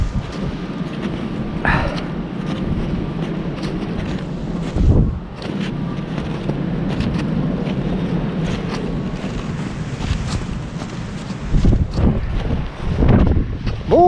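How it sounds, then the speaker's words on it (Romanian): Strong wind on a mountain summit in winter buffets the microphone in a steady roar, with gusty bursts rising and falling across the whole stretch, loud and close. "E un vânt praznic aici."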